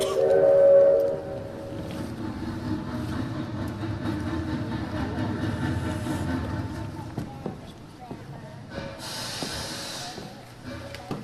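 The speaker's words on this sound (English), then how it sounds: "Patrick Burke, get on this train now" A train rumbles and hisses as it pulls away, a short whistle-like tone at the start and a burst of steam near the end, with voices faintly mixed in.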